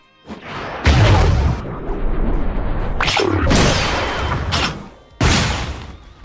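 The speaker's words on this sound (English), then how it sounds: "Let's take a look at one of the gun's finishers right now." Gun finisher gunfire in the Roblox game Rell Seas, several loud booming blasts and crashing bursts, close and heavy, with a final sharp shot near the end.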